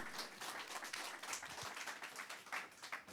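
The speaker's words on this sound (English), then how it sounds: "give yourselves a round of applause" Faint, distant applause from an audience at an Anti-Asian Hate Coalition livestream event, a soft continuous patter of clapping lasting a few seconds with no voices over it.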